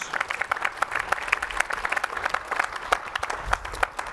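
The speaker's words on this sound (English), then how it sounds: "Let's have a big round of applause for our platinum sponsors." Moderate applause from a room of people at an executive summit, scattered claps forming an uneven patter that continues for a few seconds.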